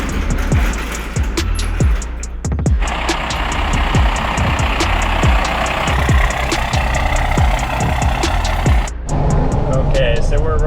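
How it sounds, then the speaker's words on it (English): A lifted Chevy K20 truck with a Cummins diesel swap and a 10-inch off-road lift rolls down the road, its engine droning steadily with repeated clunks and knocks from the suspension, and a voice talks over it. "we're rolling around in the lifted K20 for the first time"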